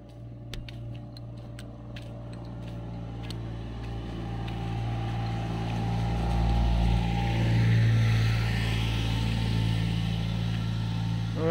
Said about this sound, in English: Alright, there's a car coming.